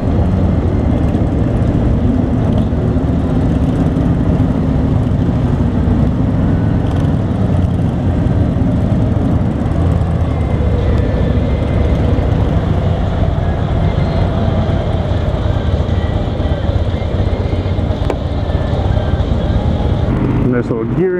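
A 2017 Harley-Davidson Low Rider engine drones loud and continuous through a test ride, a dense, steady rumble with wind noise and no clear breaks.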